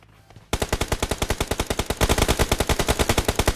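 After a brief quiet start, rapid automatic gunfire erupts in a battle royale game, a loud, evenly spaced burst of shots that keeps going for several seconds, clear and close.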